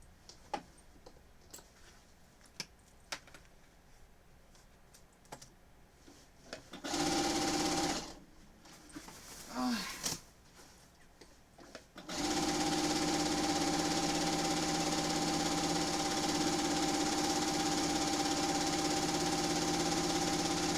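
A sewing machine stitching a weighted blanket filled with poly beads, starting in short bursts, then running steadily for the last eight seconds with a loud, even mechanical whir and ticking close by.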